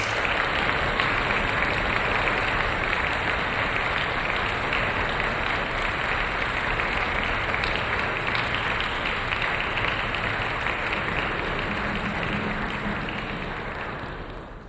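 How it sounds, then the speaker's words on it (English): Sustained, dense applause from a concert audience at The Old Museum in Bowen Hills, honouring the composers of a fanfare concert; it holds steady and loud, then tapers off at the end. "Let's give all of the composers another big round of applause."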